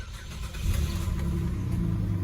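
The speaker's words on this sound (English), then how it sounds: "The 4-litre Barra sounds okay." A Ford Falcon with a 4-litre Barra engine, missing its front bumper and with a slight exhaust leak, idles steadily close by, a continuous low rumble with a small rise in intensity partway through.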